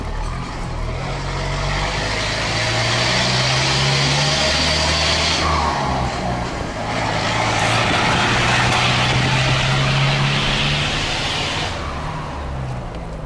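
A Volkswagen Constellation truck's 4-cylinder engine runs loud and close with a steady diesel drone, rising in two revs while the turbo whistles and sings over it.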